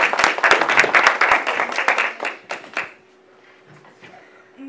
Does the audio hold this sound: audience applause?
yes